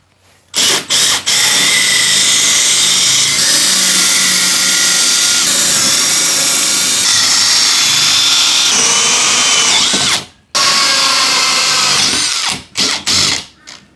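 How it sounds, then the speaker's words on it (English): Power drill boring holes for a new front door, a loud close steady whine running for long stretches, stopping briefly and then resuming in short bursts near the end. "So now these holes are drilled out"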